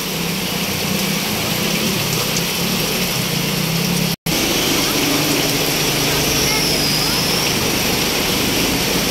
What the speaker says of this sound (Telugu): నేను బయటకు వచ్చి చూడడం అయితే ఇదే ఫస్ట్ టైం ఇంత హెవీ రెయిన్ అయితే